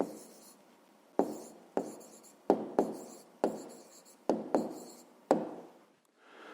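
A hand writes an answer to a fifth-grade math problem in about eight short, close strokes, each starting with a sharp tap and trailing off into a soft scratch, with no voices.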